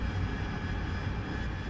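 Jet engine of the True Lies aircraft in the DCS flight sim video game, a loud, steady roaring drone with a deep rumble and a faint high whine, continuous and close, with no talking.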